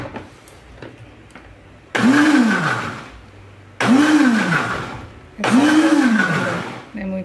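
A blender whirs in three bursts, each rising and falling in pitch, mixing 200 ml of milk into a wheat-free, egg-free, sugar-free cake batter, with quiet pauses between the bursts.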